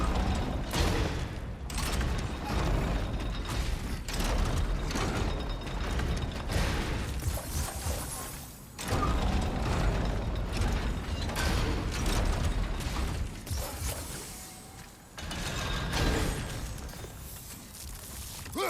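A large turning gear mechanism grinds and creaks steadily in God of War Ragnarök, a dense mechanical rumble with ratcheting clanks that runs almost continuously, dipping briefly twice before resuming at full loudness.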